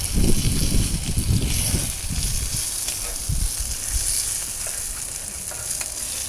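Pancakes fry on an outdoor griddle with a steady sizzle, louder crackling bursts at first that settle into a constant hiss.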